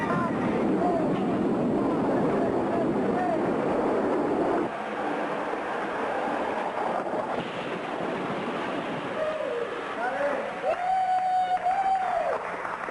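A rumbling, rushing roar of a train moving along the track, with a low-pitched whine rising near the end and a voice in the background.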